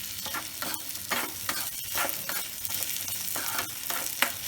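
Food fries and sizzles in a pan over a gas flame while a spoon stirs it in repeated scraping strokes, close and fairly quiet, with a steady hiss underneath.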